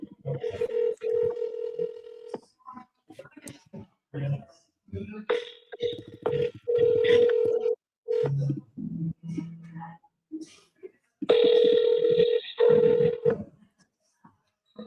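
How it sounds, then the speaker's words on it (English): A telephone rings out repeatedly on an outgoing call, steady tonal bursts in a regular on-off cadence, fairly close and loud, with a person talking in between the rings. "Come on, Carol, answer the phone."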